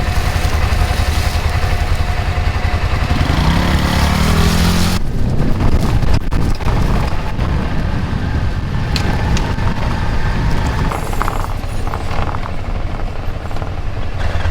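A small bass boat's outboard motor runs loud and steady, a constant engine drone that shifts in tone about a third of the way through and carries on to the end.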